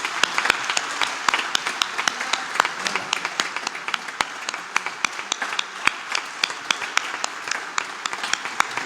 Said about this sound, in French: je voudrais vous inviter à vous lever. Voilà. Et à acclamer nos mamans et nos sœurs.